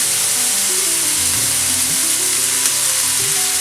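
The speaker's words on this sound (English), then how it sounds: "on low fire. You fry for 2 minutes" A fish fillet frying in a pan over low heat gives a steady, dense sizzle that stays even throughout, close and fairly loud with no voices.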